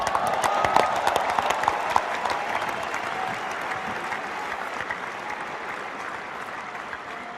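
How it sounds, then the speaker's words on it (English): Audience applause at a speech marking the end of a 24-year international cricket career for India, a dense, sustained clapping from a large crowd that peaks early and then holds steady without speech over it. "Before you start clapping"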